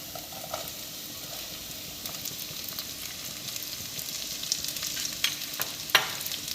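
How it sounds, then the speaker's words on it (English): Diced onions sauté in a pan over a high flame for mushroom Manchurian, giving a steady close sizzle with a few scraping stirs toward the end and no talking. "On high flame, I'm going to saute all of this at least for 2 to 3 minutes."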